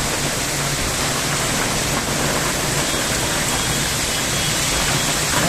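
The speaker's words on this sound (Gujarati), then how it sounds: "વરસાદ" Heavy rain pours down in a dense, unbroken hiss, loud and steady throughout with no distinct drops or voices.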